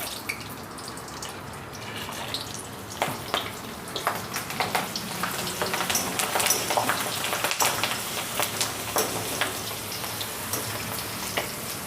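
Dried gunda kachari fries in hot oil, a constant bubbling sizzle with sharper pops and crackles that pick up partway through, heard close and alone.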